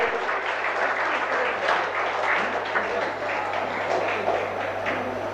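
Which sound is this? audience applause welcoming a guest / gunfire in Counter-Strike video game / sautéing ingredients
audience applause welcoming a guest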